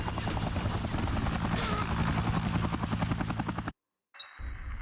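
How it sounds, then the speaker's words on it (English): Helicopters in the video game Dead Rising Deluxe Remaster thrum with rapid, steady rotor chopping, loud and sustained, then cut to silence before a brief return of game sounds. "You can probably destroy those helicopters."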